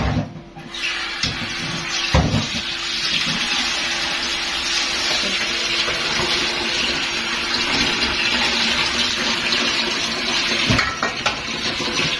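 Water runs steadily from a tap into a pot as meat is put to soak, a continuous close gush with occasional clinks of metal dishes.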